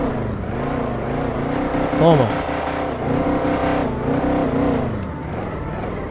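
A Chevette car engine revs in a GTA video game, a droning motor whose pitch rises and falls in several sweeps, with a brief sharp rev in the middle and a voice speaking briefly.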